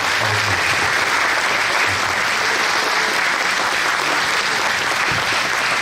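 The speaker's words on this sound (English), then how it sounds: "Give him an applause." Audience applause after a speech on an American at the Dunkirk evacuation: steady, dense clapping from a large crowd, sustained evenly throughout with no voices standing out.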